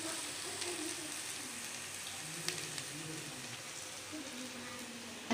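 Onions sautéing in a pan with ginger and garlic for a gravy, giving a steady, even sizzle that runs throughout at moderate level with a few faint clicks over it.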